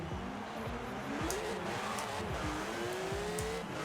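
A Porsche Macan fitted with a flat-six engine in Forza Horizon 4, revving hard through repeated gear changes with rising and falling engine tones and some tire noise, continuous and loud with no talking.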